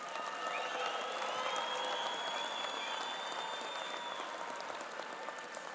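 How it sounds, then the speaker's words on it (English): A large commencement crowd applauds the graduating students at a spring college graduation ceremony, a sustained wash of distant clapping, fairly faint, with light cheering mixed in. "Let's give these hardworking young people another special round of applause."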